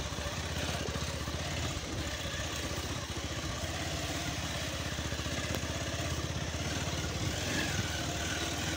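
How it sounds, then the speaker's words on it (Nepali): A motorcycle rides along a rough mountain road in Nepal, its engine droning steadily and loudly from start to finish with no pauses and no voices. "बाइकको आवाज चाहिँ यहाँ यो बाटोमा तर"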